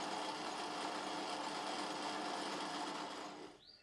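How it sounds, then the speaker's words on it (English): A drill bores stud holes in a miniature steam engine cylinder casting, giving a faint, steady whirring grind that runs on evenly and then stops just before the end. "it's time to drill the holes as can be seen in the video"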